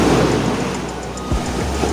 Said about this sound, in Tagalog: grabe yung alon na to